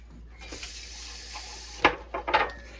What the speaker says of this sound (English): now you're going to pour in your vinegar. And you're just going to dump it.